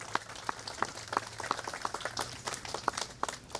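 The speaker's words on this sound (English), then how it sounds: "How about a round of applause for those?" A small outdoor crowd at a Fourth of July patriotic program in Hamilton gives scattered, sparse claps, faint and somewhat distant, with individual hand strikes irregularly spaced throughout.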